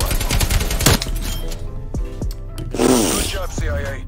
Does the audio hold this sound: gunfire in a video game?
yes